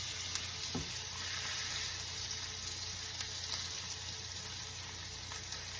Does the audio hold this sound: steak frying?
yes